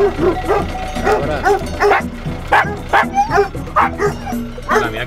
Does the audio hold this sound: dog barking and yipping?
yes